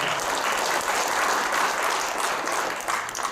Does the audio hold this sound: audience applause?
yes